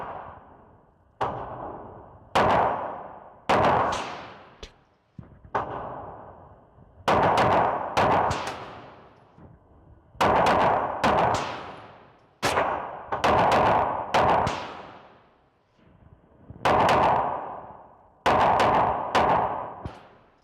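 An Oracle Arms 2311 pistol fires various kinds of ammunition outdoors, with sharp, loud shots arriving singly and in quick pairs or triples, each trailing a short echo, spread over about twenty seconds with no talking.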